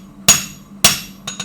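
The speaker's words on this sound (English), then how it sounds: "Hammer straight up and down." A hammer strikes hot metal on an anvil while drawing out at the forge, with two loud ringing blows followed by a couple of lighter, quicker taps, all close and with no talking.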